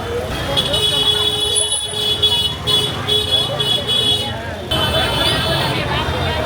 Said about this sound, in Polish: Wszyscy tu trąbią.